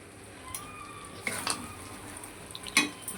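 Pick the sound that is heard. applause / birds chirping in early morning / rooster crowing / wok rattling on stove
wok rattling on stove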